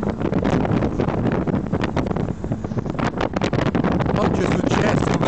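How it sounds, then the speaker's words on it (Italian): Riding in the open back of a pick-up truck, loud rushing wind batters the microphone alongside the rumble of the moving vehicle, steady and gusting throughout, with a voice speaking at times. "Io sono su un cassone di un pick-up"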